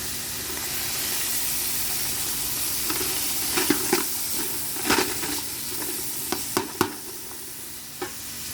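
Chicken frying in ghee in a pan, a steady close sizzle and hiss with a few sharp pops and crackles scattered through the later seconds.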